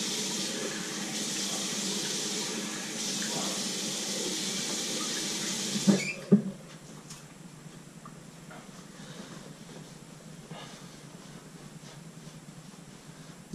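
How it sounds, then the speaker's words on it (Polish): Cold water runs from a bathroom tap into a sink while a face is rinsed after a straight-razor shave, a steady close hiss that stops abruptly with a couple of splashes, leaving quiet room noise. "Puczę twarz na finisz, zimną wodą oczywiście."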